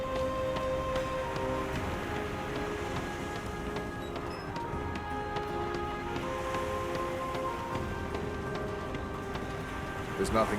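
Steady rain falls in Divinity Original Sin 2, a dense even hiss that runs through the whole stretch at a moderate, unchanging level, with faint tonal game ambience layered underneath.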